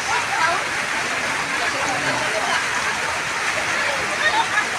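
A waterfall swollen by heavy rain roars in a steady hiss of falling water, with rain adding texture and a voice talking over it.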